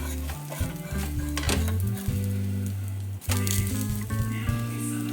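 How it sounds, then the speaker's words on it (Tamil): A ragi and moong dal dosa sizzles on a pan after being turned, with a soft crackle beneath clattering spatula and pan knocks and a low sustained hum throughout, no speech. "அப்படியே மெதுவாக நான் வந்து திருப்பி போட்டுடுறேன்"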